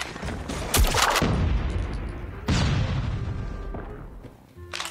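Shotgun sniper blasts ring out in a mobile shooter game, two or three sharp booming shots spaced apart with decaying echoes.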